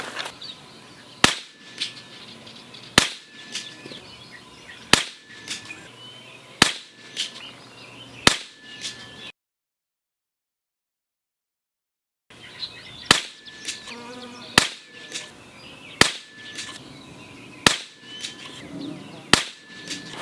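Two five-shot strings from a CZ457 chassis rifle and a Tikka T1X fired at 100 yards: sharp, evenly spaced cracks about every one and a half seconds, with a silent gap between the groups.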